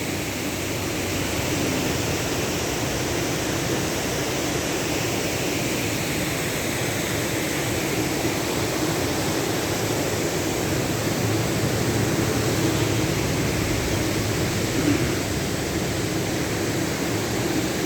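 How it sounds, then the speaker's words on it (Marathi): A small waterfall on the Dahagaon–Pivli road near Shahapur, Thane, running in the rainy season, gives an unbroken, even broadband rush. The roar holds steady and fairly loud throughout with no other sounds. "हा छोटासा धबधबा हा पॉईंट आहे"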